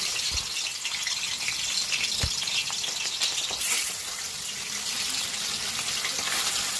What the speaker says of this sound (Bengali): এরপর আমি কড়াইতে দিয়ে দিয়েছি মাছগুলো একে একে। খুব ভালো করে মাছগুলোকে ভেজে নিতে হবে কড়া করে।